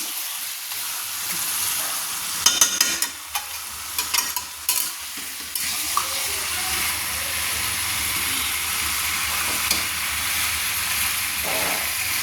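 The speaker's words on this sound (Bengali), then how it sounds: "1 কেজি চিকেন আমি কষিয়ে নিচ্ছি, ভালো করে কষিয়ে নিচ্ছি।" One kilogram of chicken for curry stirred and fried in a pan, a steady sizzling hiss with a burst of clattering spoon scrapes early on, then continuous frying with occasional light knocks.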